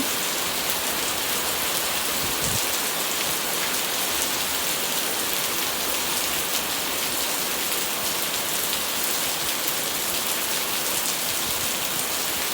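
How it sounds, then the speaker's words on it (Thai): Heavy, continuous rain pouring down in Chanthaburi, Thailand, in an even roar, with a soft low thump near the start and no voices. "ช่วงนี้ฝนตกทุกวันเลยค่ะที่จันทบุรี"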